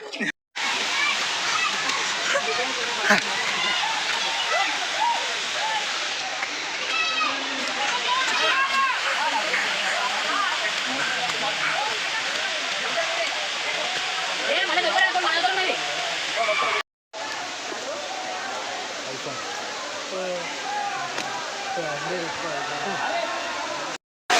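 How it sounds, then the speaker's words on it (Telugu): A waterfall rushes in a loud, continuous roar of splashing water close by, broken by one brief cut partway through, with voices mixed in. "సో లోపల అక్కడెక్కడ ఉన్నది వాటర్ ఫాల్"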